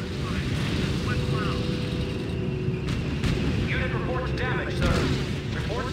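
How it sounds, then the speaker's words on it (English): In the strategy video game R.U.S.E., a field artillery battalion fires: a dense, continuous low rumble of guns with repeated dull booms layered under steady battlefield din. "Sir, the Field Artillery Battalion is opening fire."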